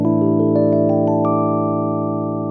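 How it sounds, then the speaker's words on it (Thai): Dry EP Mark 1 electric piano tone from a Studiologic Numa Compact SE, several sustained notes with soft bell-like attacks layered into a warm ringing chord, heard clearly and alone. "อันนี้คือเสียง EP Mark 1แบบเปล่า ๆครับ"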